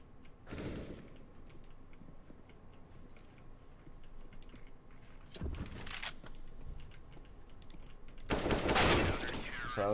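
Gunfire in a competitive shooter game: a few short, sharp bursts spaced out over several seconds, the last one loudest and densest, over a low background hum with faint clicking.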